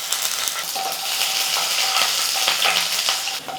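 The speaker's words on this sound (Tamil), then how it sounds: "பூண்டு நல்லா வதங்கிடுச்சு." Whole garlic cloves fry in oil with mustard seeds and cumin in a kadai, a steady dense sizzle with small crackles and occasional clinks of a stirring spoon, close and continuous.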